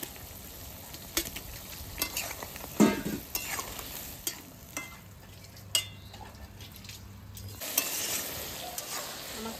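Katla fish goes into a simmering kochur loti (taro stolon) curry in a pan, with a steady sizzle and bubbling under repeated scraping stirs and occasional utensil clinks.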